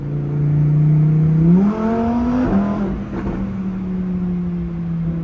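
A 2021 Lamborghini Huracan EVO engine revs hard while driving, its loud, rising harmonic roar climbing in pitch, dropping briefly at a gear change, then settling into a steady drone, with no talking.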